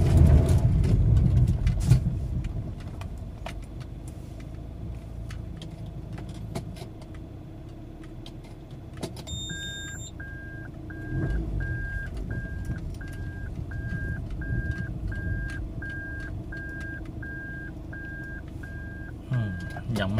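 A Toyota ACV30 idles steadily with a low engine hum while a repeating electronic beep chimes in a regular rhythm, with a few clicks and a voice heard at the start.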